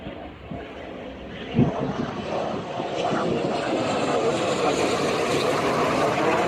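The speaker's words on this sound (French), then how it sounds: "ça soit le 14e avion qu'on voit en 1 heure" Propeller airplane passing overhead in a sunny holiday spot where planes fly over frequently, a steady broad engine drone that swells slightly and holds loud throughout, with a brief thump early on.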